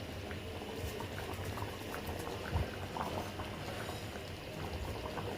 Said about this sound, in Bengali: সো আর একটু ফুটবে, একটু কারি কারি টাইপের হবে, তারপরে নামবে।